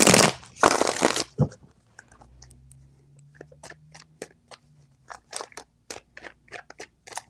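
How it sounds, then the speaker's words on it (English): Tarot cards shuffled by hand, with two loud riffling bursts at the start followed by a run of quick, crisp card snaps and flicks, close and alone with no voices. "Three shuffles"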